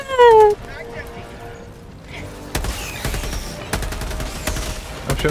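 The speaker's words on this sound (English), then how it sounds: "I'm shooting another one." Gunfire in the video game Helldivers 2, a series of sharp, loud shots spaced irregularly through the second half after a brief high-pitched cry at the start, with people talking in the background.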